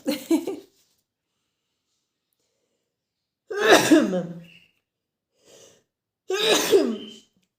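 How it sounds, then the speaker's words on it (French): Two loud, close sneezes a few seconds apart, each a harsh burst of breath, the first following a brief spoken phrase and separated by quiet gaps. "je sens que je vais devoir éternuer"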